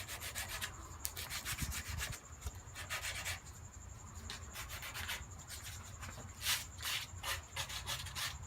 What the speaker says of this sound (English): Kind of get in there on the edge of the sandpaper.